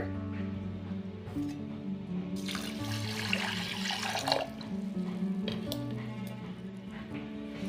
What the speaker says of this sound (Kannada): ಈಗ ನೀರು ಹಾಕಿ ಚೆಂದಾಗಿ ಕೈಯಾಗ ತೊಳೆದಿಟ್ಕೊಳ್ಳೋಣ